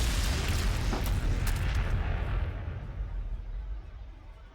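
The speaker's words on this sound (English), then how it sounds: "Let's fire at least some frag at them." Frag missiles launched in the Warhammer 40,000: Sanctus Reach game burst out in a loud, booming blast that rumbles heavily and slowly fades over several seconds.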